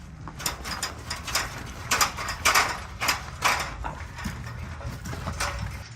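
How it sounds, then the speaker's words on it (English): Fire ladder being locked by a cadet during ladder operations training, a run of metallic ratcheting clicks and clanks of the locking mechanism, fairly close and uneven in rhythm. "what the cadet is doing is locking the ladder"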